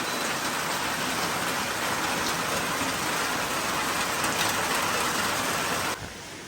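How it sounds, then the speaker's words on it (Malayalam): Heavy rain pours down in a steady, dense hiss close by, with no voices. It stays loud and unbroken until it dips near the end. "നല്ല മഴയാണ്. മഴ ഇത്ര നേരം ഉണ്ടായിരുന്നില്ല, ഇപ്പോൾ ഇത് വീണ്ടും പെയ്തു തുടങ്ങി"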